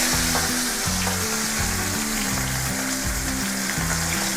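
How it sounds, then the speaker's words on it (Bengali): A piece of rohu fish is frying in smoking-hot mustard oil, giving a loud, steady sizzle that carries on without a break. A low, repeating hum runs underneath. "দেখুন তেলটা গরম হয়ে গেছে, ধোয়া বেরোচ্ছে। এখন আমি রুই মাছের পিসটা এনে দিয়ে দিলাম।"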